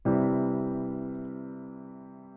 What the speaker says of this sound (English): when we play all 3 notes together, the triad sounds like this.